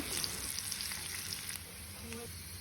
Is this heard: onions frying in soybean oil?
yes